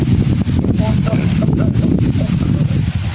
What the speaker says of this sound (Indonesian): Anginnya aja kayak gini nih